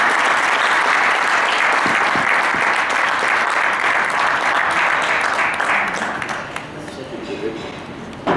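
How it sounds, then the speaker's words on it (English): A large audience at a TiE Karachi event applauds a guest speaker as he is introduced, a long, loud, dense roar of clapping that holds steady and then thins and fades toward the end. "in your huge round of applause, Mr. Hussain Dawood"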